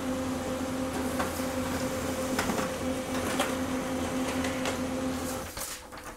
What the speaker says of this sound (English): Sometimes it takes a few seconds and the print will be over here.